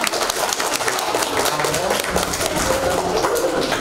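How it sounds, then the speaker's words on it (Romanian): Applause for a child at a school reading event in Onești, marking International Day of Reading Together; dense, steady clapping fills the whole stretch, with a crowd murmuring and a voice faintly audible underneath. "Haideți, aplauze și pentru Giulia"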